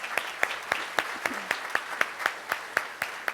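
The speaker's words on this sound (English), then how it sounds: "Let's give them all a nice round of applause." Audience applause at a Rotary Club of Tulsa luncheon meeting, moderately loud, with a few prominent claps in a steady rhythm standing out over the crowd's softer clapping and no talk.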